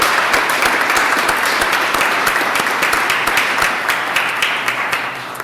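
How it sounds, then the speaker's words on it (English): An audience at a Rhode Island Francophonie gathering claps in warm, sustained applause, many hands filling the room evenly before it starts to taper off at the end. "So let's have a round of applause and thank them for all that they do."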